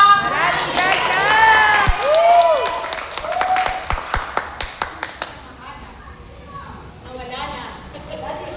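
An audience at a Catholic Mariology renewal seminar claps and cheers over singing voices, then breaks into a run of sharp, evenly spaced claps before the clapping fades under voices.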